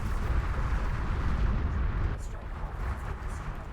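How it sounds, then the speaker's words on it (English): Railguns in a space-strategy video game fire at an honor guard ship, producing a steady roar of dense, rumbling explosive bursts with a few sharper cracks near the end. "these railguns are actually hitting this honor guard here"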